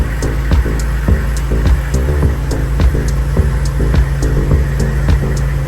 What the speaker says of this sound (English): CTIS, Central Tire Inflation Systems. That's what it's doing.